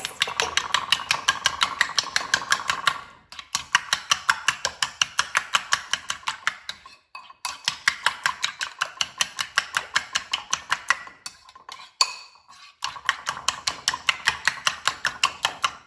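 Omelette eggs seasoned with garlic salt and pepper being beaten, a rapid rhythmic clatter of a utensil whisking against a bowl in several steady bursts separated by short pauses, close and clear without speech.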